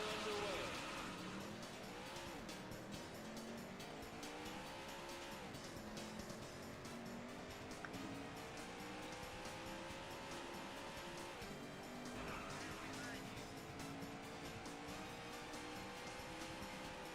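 Race car engines in the 1994 Daytona USA arcade game, a loud sustained whine rising and falling with gear shifts, tire squeals and a voice speaking over it.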